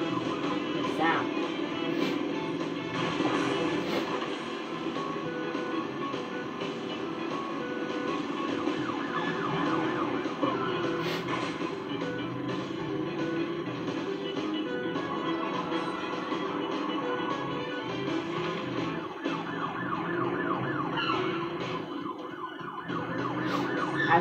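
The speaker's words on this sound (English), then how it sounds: "I've seen police officer siren" A wailing police siren in the video game Crash Bandicoot N. Sane Trilogy on PS4 sounds continuously over a dense, busy mix of engine rumble and game effects, with talking mixed in at moderate loudness.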